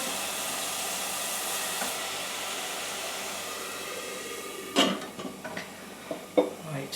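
Onions being stirred in a pot while cooking Punjabi basmati rice, a steady hiss of cooking followed by a few close metallic scrapes and clinks of the spoon against the pot, with no talking.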